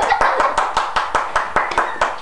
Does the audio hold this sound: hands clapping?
yes